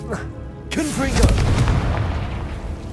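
A fiery Confringo blasting spell explodes in Hogwarts Legacy, a loud boom that bursts in suddenly and rumbles on for a couple of seconds while voices sound over it.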